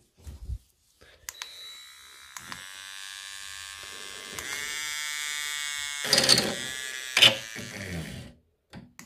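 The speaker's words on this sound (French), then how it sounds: "je vais percer un trou à ras-bord de la calandre, là, à l'intérieur de la calandre" A cordless drill bores a hole in a plastic front grille on an Audi A4 B8, a steady close whine that rises in pitch, with a couple of louder bursts before it stops, and a voice speaking at the start.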